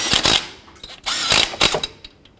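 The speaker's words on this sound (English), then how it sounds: "with a 10mm, snug these up" A 10mm wrench snugging up exhaust manifold bolts on a 2007 Chevy Silverado Classic, three short bursts of rapid ratchet clicking, close and crisp, with quiet gaps between.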